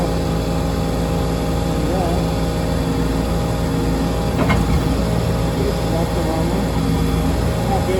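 A Peterbilt 330 truck engine idles steadily and close by, a constant low rumble with a brief louder bump midway.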